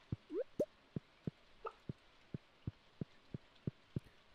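Rain in the video game Stardew Valley falls as quiet, evenly spaced soft drops, about a dozen regular plops with nothing else around them.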